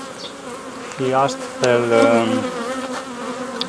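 Honey bees buzz steadily around a hive during a dearth period when they are fed syrup, a close, continuous drone with a few louder passes, while a voice speaks briefly.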